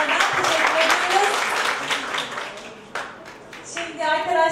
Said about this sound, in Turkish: Hocamıza büyük bir alkış alalım tekrardan.